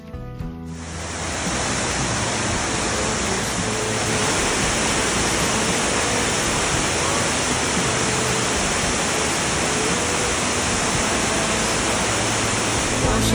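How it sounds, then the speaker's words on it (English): Steady, loud rain hiss on a wet, slippery mountain hiking trail on Mount Katahdin's Hunt Trail, a continuous broadband wash that fills the whole span from start to finish with no pauses. "You're in the rain."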